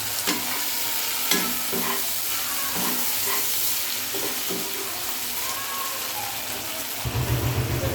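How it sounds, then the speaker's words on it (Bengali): Onion and tomato fry with salt in a pan for a parshe fish curry with taro, giving a steady close sizzle broken by stirring scrapes. A deeper rumble swells near the end. "দিয়ে আমি সুন্দর করে ভেজে নেব দুটোকেই। এর মধ্যে আমি একটু নুন অ্যাড করলাম যাতে টমেটোটা আর পেঁয়াজটা একটু নরম হয়ে যায়।"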